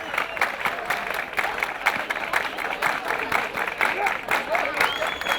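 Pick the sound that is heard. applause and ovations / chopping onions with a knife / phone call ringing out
applause and ovations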